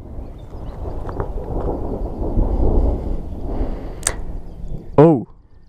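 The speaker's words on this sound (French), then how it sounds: "il y a le tonnerre" A long, low rumble of thunder rolls and swells for several seconds in the distance, followed by a sharp click and a brief whooshing sweep.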